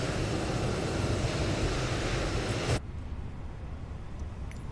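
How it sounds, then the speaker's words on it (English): A simulated airplane lands in Microsoft Flight Simulator 2020 at Istanbul Sabiha Gökçen airport. A loud, steady engine roar cuts off abruptly about halfway through, leaving a much quieter low hum. "I think there's a plane landing."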